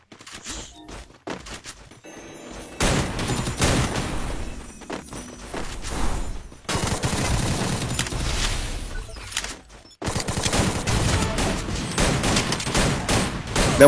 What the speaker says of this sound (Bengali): স্নাইপার মারতেছে আমারে।